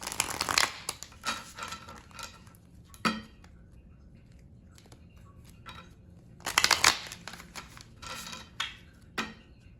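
Tarot cards are shuffled in a few brisk riffling bursts, close and crisp, separated by quieter stretches of soft handling and rustling.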